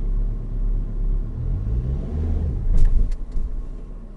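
A manual-transmission car's engine rumbles low and steady as a learner driver lets the clutch out, with the drone rising slightly before a few sharp knocks near the end.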